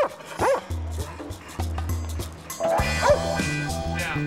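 German Shepherd police dogs at a station bark and whimper in rapid, overlapping bursts, loud and close, with high whines rising between the barks.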